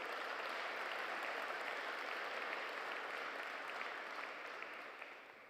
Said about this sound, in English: Please, a round of applause to them.